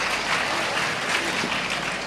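An audience at a Hindi family sermon claps together in a steady burst of applause, with dense, even clapping filling the short stretch.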